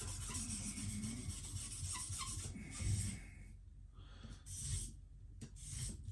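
A knife is sharpened in a few even strokes. Faint rasping swipes sound close by, separated by brief quiet gaps.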